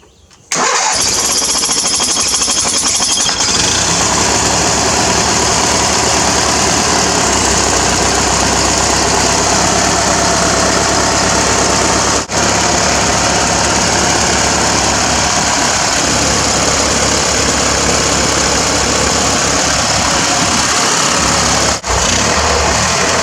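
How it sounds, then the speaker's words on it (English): A two-cylinder engine on a cold start cranks briefly, catches, and settles into a loud, steady idle with a rough, uneven throb that continues for the rest of the clip. "We're about to do a cold start and see if it runs on both cylinders now."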